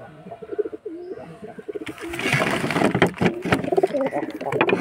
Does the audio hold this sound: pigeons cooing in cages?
yes